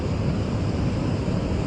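A mountain stream in the Himalayan highlands rushes toward a waterfall, a steady, loud, broadband roar of flowing water with no pauses.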